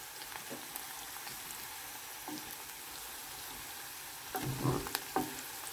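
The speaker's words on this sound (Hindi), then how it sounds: "प्याज को हम लाइट ब्राउन करेंगे।" Onions frying toward light brown in a pan for a desi aloo anday dish, a faint steady sizzle with a few louder bursts of crackle near the end, no talking.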